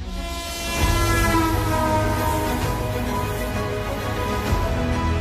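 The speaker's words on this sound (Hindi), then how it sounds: "हमारी भारतीय रेल।" An Indian Railways train passing close by: a loud, sustained horn blares over the rumbling rush of rail cars, rising after a quieter first second and holding steady to the end.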